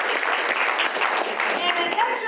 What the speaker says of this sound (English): Big round of applause for everybody that helped.